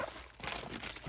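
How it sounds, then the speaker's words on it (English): A mailed package being opened by hand, with soft close plastic crinkling and rustling in short, irregular bursts and no talk. "we're going to just open this package up and see what's in here"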